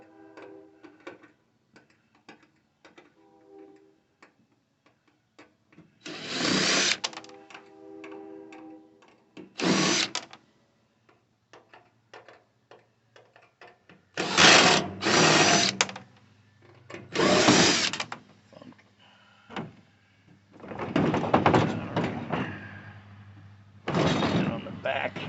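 A power driver backs the transformer screws out of a microwave in several separate whirring bursts, each lasting one to two seconds. Short clicks and handling noises fall between the bursts, and someone talks in the quieter stretches.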